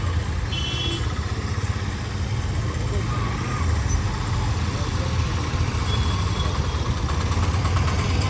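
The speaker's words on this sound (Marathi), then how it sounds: "खूप ट्रॅफिक अशी लागलेली आहे फाट्यावर" Heavy traffic backed up at a night road junction near a petrol pump, a steady loud rumble of idling vehicle engines filling the whole stretch, close and continuous.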